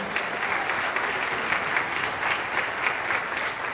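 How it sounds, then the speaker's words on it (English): An audience at a winter high school band concert applauds, a thick, sustained wash of clapping from many people that stays level and fairly loud from start to finish, with no talking. "If we can have a round of applause for Mr. Chris Parrish."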